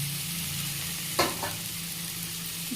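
Vegetables with turmeric are stirred in a frying pan over a steady low sizzle, with a couple of short scraping strokes near the middle and another faint scrape at the end.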